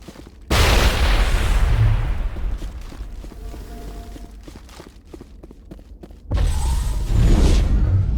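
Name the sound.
grenade explosion in video game Mass Effect Legendary Edition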